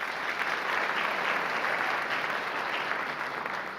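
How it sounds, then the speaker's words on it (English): An audience at the Anne Arundel County Executive Debate 2022 claps in a steady, even burst of applause, filling the room at moderate loudness with no voices over it. "So applause for him."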